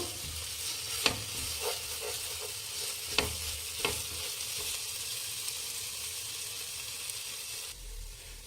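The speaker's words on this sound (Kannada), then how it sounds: "ನೋಡಿ ಫ್ರೆಂಡ್ಸ್, ಮೊಟ್ಟೆ ಮುಕ್ಕಾಲು ಭಾಗ ಬೆಂದಿದೆ. ಇನ್ನೂ ಬೇಯಬೇಕು" Eggs frying over high heat for hotel-style egg rice, a steady broadband sizzle with a few sharp scrape-and-clack spikes as a spatula stirs them, close and continuous.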